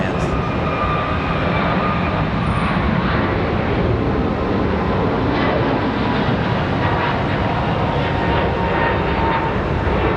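An airliner departing Charlotte Douglas airport gives a sustained, loud broadband engine roar that holds steady throughout, with no talk over it.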